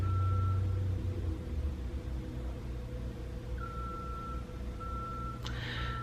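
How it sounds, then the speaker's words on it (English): Construction vehicle reversing beeps outdoors, a repeating high tone sounding in spaced pulses, fairly faint over low rumbling traffic and engine noise, with a brief sharp clatter near the end. "the construction people just every time I hit record start beeping"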